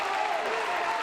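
Spectators at a high school wrestling match between Milton and Fort Atkinson roar in a steady, loud crowd swell, with no clear single voices.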